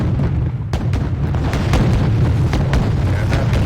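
Incoming missiles explode over naval ships in Wargame: Red Dragon in a dense, loud, continuous barrage of rumbling booms and sharp cracks, with no letup.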